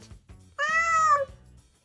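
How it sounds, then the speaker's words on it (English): A cat lets out one clear, drawn-out meow lasting about half a second, close and fairly loud, with quiet surroundings before and after. "Think about your cat"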